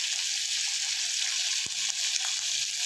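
Ginger sautéing in rendered pork fat in a pan for a home-cooked ginisang monggo sizzles in a steady, bright hiss, with a couple of faint stirring knocks and no talk.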